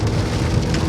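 Rain patters steadily on a Skoda Rapid car during a road trip between Hubli and Haveri, a close, even wash of drops with no talking.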